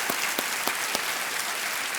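Studio audience applause on the KBC game show set, a dense steady wash of clapping across the whole span with a few sharper accented claps standing out, no talking over it.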